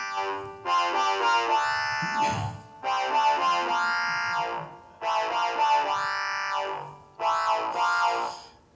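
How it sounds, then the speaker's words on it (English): A synthesized dance melody sequenced at 110 beats per minute with the Clojure Leipzig library plays alone, in four repeating phrases of bright, bouncy synth notes with pitch-bending swoops and short gaps between phrases. "we can just play the whole melody,"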